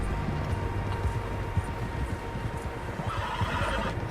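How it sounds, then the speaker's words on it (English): Horses neigh and hooves clop in a video game train-robbery scene, several animals heard together in a dense, continuous wash of whinnies and hoofbeats with a steady background bed. "Horses, quite a few of them."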